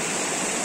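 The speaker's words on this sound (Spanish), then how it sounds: "solamente vine a compartirles eso, el río limpio y el río sucio" A river flowing, a loud, steady rush of water with no pauses and no voices.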